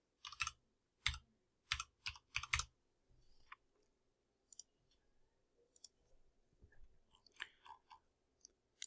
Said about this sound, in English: go to Search, and type in regedit